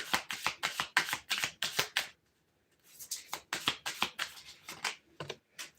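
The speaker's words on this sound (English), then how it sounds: "So we have 2 cards flipping over" Tarot cards are shuffled and flipped in quick riffling bursts of crisp papery snaps, a pause of silence midway, then more card handling up close with no talk.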